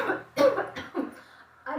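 An elderly woman coughs in a few harsh, close bursts indoors, separated by short pauses, with a rasping, throaty quality.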